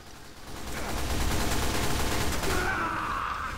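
Rapid gunfire in a Team Fortress 2 match: a dense, continuous crackle of shots and bursts, loud and sustained throughout, with no talk over it.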